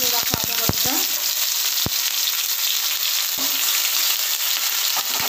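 Soaked ginger paste hits hot tempering oil in a pan for a cabbage dish, giving a steady, close sizzle with a few sharp crackles and spatters early on, no voices.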